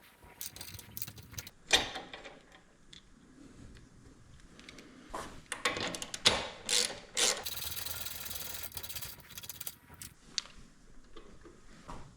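A wrench loosens a nut on Ducati Desert X crash bars, giving faint, irregular clicking and ratcheting with scattered metallic knocks and a brief denser burst near the end.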